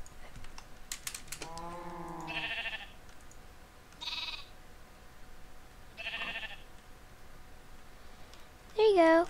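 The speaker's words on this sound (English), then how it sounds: "sheep" Minecraft sheep bleat in short synthetic calls spread across a quiet game scene, with soft clicking and keyboard-like taps between the bleats and one louder burst at the end.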